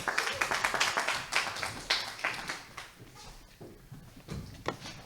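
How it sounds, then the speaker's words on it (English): A church congregation claps to welcome presenters. The applause is fairly sparse and uneven, with distinct individual claps and bursts that thin out and fade over the few seconds. "Let's give them a round of applause."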